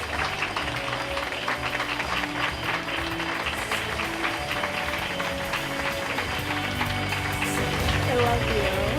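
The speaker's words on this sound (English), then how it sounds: "let's all stand up and give Julie a round of applause" An audience applauds to welcome a speaker onto the stage at an inspirational event, a dense sustained clatter of clapping that swells slightly toward the end.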